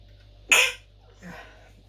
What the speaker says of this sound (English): Apologies, had to sneeze.